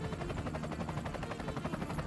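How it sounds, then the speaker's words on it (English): A heavily loaded helicopter climbs at maximum engine power over mountain valleys, giving a steady, dense rotor thump and turbine roar that pulses rapidly and evenly throughout, with no voices. "Pulling maximum power, the engines screaming, they barely clear the tree line and dive back into the valleys"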